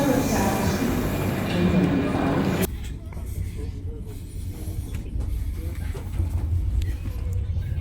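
A loud, steady roar of a high-speed train in Italy travelling to Bologna that suddenly drops to a lower rumble with faint creaks and rattles.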